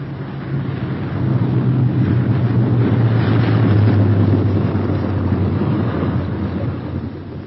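A B-17 Flying Fortress bomber landing in 1944 with one inboard engine dead, its remaining radial engines giving a loud, low, continuous droning roar that swells and then eases slightly.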